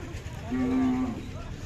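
A Khillar cow gives a single long, low moo lasting about half a second, fairly close, over a steady murmur of background noise at the Sangola cattle market.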